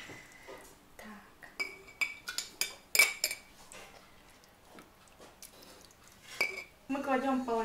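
Glass canning jars clinking and knocking together as they are handled in a kitchen while making lecho, a series of sharp bright clinks and taps, some ringing, close by, with people talking softly throughout.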